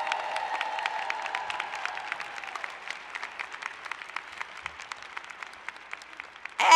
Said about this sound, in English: And so we can all now give them a rousing round of applause.